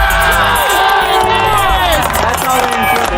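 Crowd cheering and applauding as an injured 23-year-old rider gets back up after a violent crash, a dense, continuous roar of voices and clapping heard close and loud throughout.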